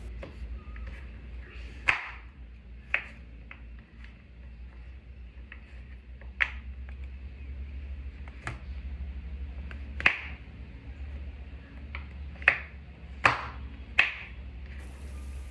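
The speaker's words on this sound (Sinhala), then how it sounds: "මේ පේනවා වගේ පුංචි පුංචි කෑලි වලට කපා ගන්න." A knife chops chocolate into small pieces on a board with sharp, sparse knocks at irregular intervals, close and distinct against a quiet background.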